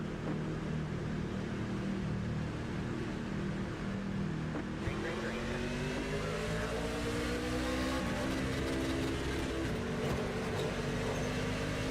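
Race truck engine droning steadily in a racing video game at Homestead, holding pace speed then climbing in pitch as it accelerates, loud and continuous with a voice talking over it.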